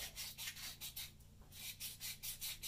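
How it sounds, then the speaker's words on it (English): Abrasive cloth rubbing back and forth inside copper pipe fittings to clean them before soldering, a quiet, steady rhythm of short scratchy strokes with a brief pause in the middle. "you got to clean the inside of these copper fittings out really well"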